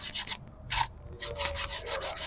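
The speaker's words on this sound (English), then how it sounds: "Okay, our trusty sandpaper." Sandpaper rubbed by hand over a surface while a 2010 Kia Soul is being worked on, producing short, close scratchy strokes in an uneven rhythm with small pauses between them.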